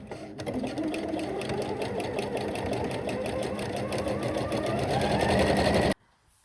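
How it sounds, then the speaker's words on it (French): Sewing machine running steadily for about six seconds, stitching a seam on men's or children's boxer shorts as the fabric is guided straight along the presser foot, then stopping abruptly. "Pendant que je couds, je vais tirer un peu."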